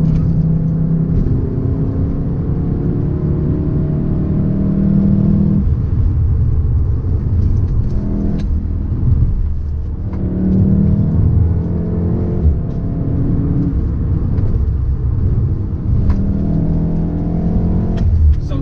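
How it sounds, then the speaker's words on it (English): A Volkswagen Golf R MK7 hot hatch in race mode climbs the Genting uphill road, its engine revving hard and loud and close throughout, rising and dropping through gear changes with a constant rumble. "It sounds like a proper hot hatch."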